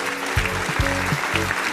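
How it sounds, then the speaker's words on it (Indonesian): A few people clapping on a podcast, with a handful of distinct claps and a low hum underneath, fairly close and modest in volume. "Boleh dong tepuk tangannya dulu."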